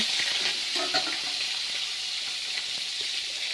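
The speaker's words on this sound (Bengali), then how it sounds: "এখন ফুলকপি আলুটা দিব দিয়ে ভাজা ভাজা করব" Cauliflower and potato frying in oil tempered with cumin seeds and dry red chili, a close, steady sizzle with scattered crackles and light stirring clatter for a few seconds.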